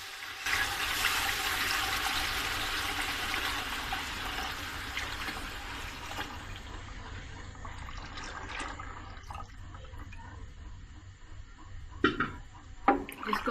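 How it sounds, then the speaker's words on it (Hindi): Buttermilk mixed with gram flour pours into cooking masala in a kitchen, a steady liquid splashing and gushing that fills the first half, then tapers off into faint clinks and small utensil knocks. "अब हम इसमें अपनी वो लस्सी जिसमें हमने बेसन डाल के रखा था वो ऐड कर देंगे।"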